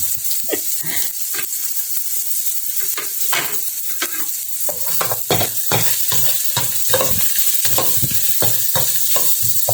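Chicken browns in a hot pan with a constant sizzle, broken by repeated sharp scrapes and clatters from stirring, close and fairly loud.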